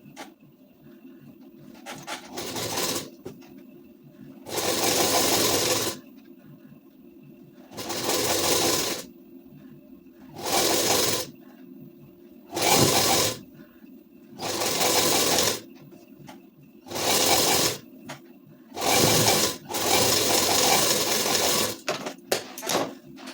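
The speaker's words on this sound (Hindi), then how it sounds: "आस्तीन चढ़ गई, अब सिलाई को कर देंगे डबल।" Sewing machine running double stitching along the sleeve seam of a ladies' suit, loud bursts of rapid mechanical whirring separated by short silent pauses, roughly a dozen runs in a row.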